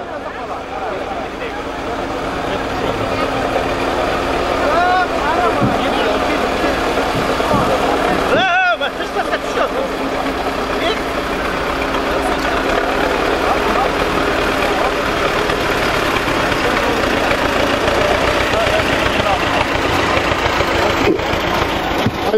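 A tractor engine idles with a continuous rough, chugging rumble that stays steady and loud throughout, while people talk over it nearly the whole time.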